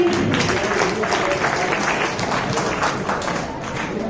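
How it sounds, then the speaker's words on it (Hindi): Loud, sustained audience applause at a Republic Day programme, dense clapping filling the whole stretch with a steady crowd roar and no clear break. "जोरदार तालियों के साथ उत्साह बढ़ाइए।"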